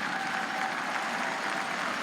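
Arena crowd at a curling national final cheering and applauding in a dense, steady wash of claps and voices that holds loud and unbroken throughout.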